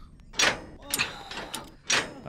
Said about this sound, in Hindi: दरवाजा खोल रहे